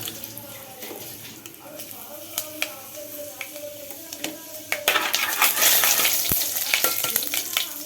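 Fenugreek seeds and mustard seeds sizzling in hot oil in a home kitchen pan, a steady crackle that swells sharply into loud, bright frying near the end, with scattered pops and a metallic tap.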